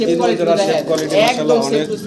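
Several pairs of German Beauty pigeons kept in cages at a pigeon farm, cooing loudly and close in overlapping, continuous throaty rolls.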